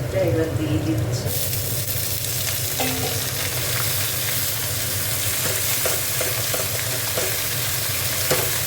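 Red amaranth greens added to frying garlic and onion, a loud sizzle rising as they hit the pan, then steady crackling with repeated scrapes of stirring close by.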